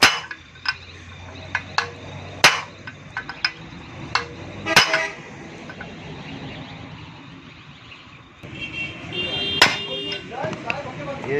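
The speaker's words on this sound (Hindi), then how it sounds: "ये इस तरह आपने इसमें रख के हल्की हल्की आपने सट लगानी है" Light hammer taps on a Suzuki Mehran suspension part during a bearing repair, a series of sharp separate metallic knocks at irregular intervals, some louder than others, with workshop noise and a brief voice between them.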